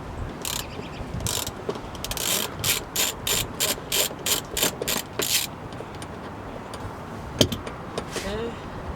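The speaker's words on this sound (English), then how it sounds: "let's go and break this bolt free" A ratchet wrench breaks free and turns a seatbelt mounting bolt inside a BMW E36 M3, giving a series of rapid clicking bursts in a steady rhythm, close and clear, with no talk over it.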